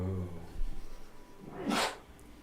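A single short sneeze, a breathy burst near the end after faint murmured speech at a tabletop game session.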